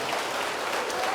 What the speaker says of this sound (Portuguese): vamos dar para esta palavra a melhor salva de palmas